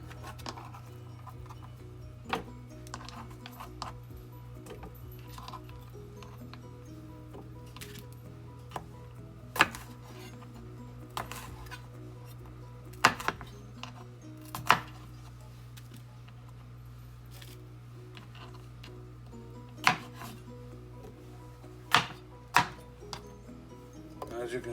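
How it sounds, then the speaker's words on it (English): Knife strokes roughly chop red, green, yellow and orange bell peppers on a cutting board, sharp irregular taps spread across the stretch over a steady background hum. "a rough chop on the peppers"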